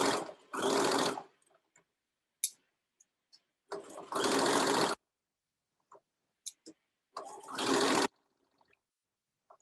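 A sewing machine stitches a welt pocket along a diagonal curve at a quarter-inch seam, running in three loud, steady bursts of about a second each, separated by quiet gaps with small handling clicks.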